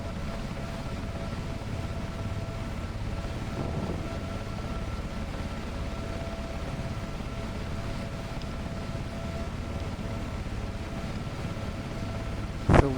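Helicopter cabin noise in flight near Cark Airport, Grange-over-Sands, Cumbria: a steady, loud low drone with a faint tonal whine and broadband rush, unbroken throughout, with a brief knock at the end.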